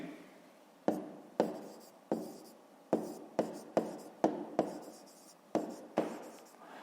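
Pen or pencil writing by hand on paper while working a fifth-grade maths exercise: about a dozen quiet, scratchy strokes, each starting with a crisp tap and fading out, spaced irregularly, close and alone.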